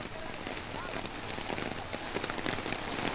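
Heavy monsoon rain in Belagavi, Karnataka, falling steadily as a dense, continuous hiss across the whole stretch, fairly loud and close with no voices over it.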